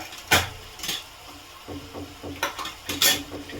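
A spoon scrapes and clinks against a pan while turmeric and chili powder are stirred into cooked-down tomato for a gram-flour curry, several distinct metallic taps and scrapes over a faint sizzle, with no talk.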